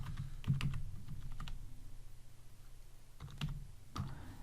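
Quiet, close bursts of typing on a computer keyboard, a few quick clusters of key clicks split by short pauses while code is entered.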